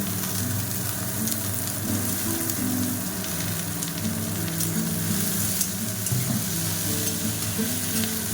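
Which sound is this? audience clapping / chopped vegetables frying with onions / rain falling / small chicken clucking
chopped vegetables frying with onions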